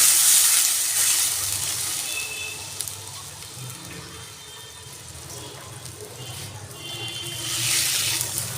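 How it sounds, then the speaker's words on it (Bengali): Water is poured into a pan of dry-fried mung dal, giving a close, hissing sizzle that eases in the middle and swells again toward the end. "আমি এখানে 2 বাটি জল দিয়ে দিলাম"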